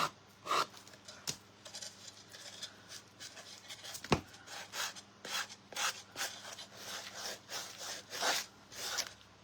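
A wooden Dollar Tree cutting board being distressed with coarse 80-grit sandpaper, heard as repeated close rasping strokes in a steady back-and-forth rhythm, with no talking.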